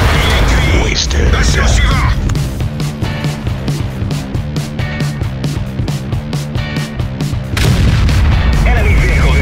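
Loud blasts and gunfire as an enemy vehicle is destroyed in a video game, booming repeatedly over a dense, continuous mix of game music and effects, with voices talking throughout.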